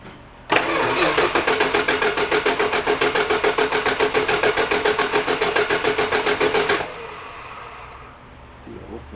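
The engine of a 1967 Plymouth is cranked by the starter for about six seconds with a fast, even churning rhythm, close and loud, then cuts off into quiet.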